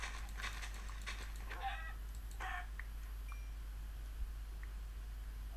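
Chickens in the Minecraft video game give a few short, faint clucks over a steady low hum, with no talking.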